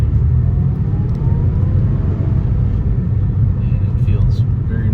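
A 1993 Porsche 964 Carrera Cabriolet rolls at low speed through gear changes, heard from inside as a steady, loud low engine and road rumble with wind noise that never drops out.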